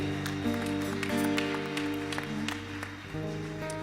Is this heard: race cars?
no